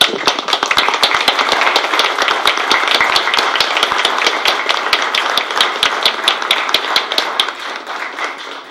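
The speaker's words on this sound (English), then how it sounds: "This was a round of applause for them." A public school board meeting audience applauds a school, with steady, dense clapping from a crowd of many hands that is fairly close and continuous before it tapers off at the end.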